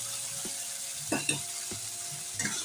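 Spice paste mixed with water goes into hot oil for a paneer and potol curry and sizzles with a soft, continuous hiss, quiet and close, with a few stirring scrapes and no talk.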